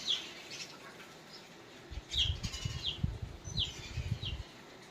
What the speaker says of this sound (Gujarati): ચકલા એકદમ બોલે છે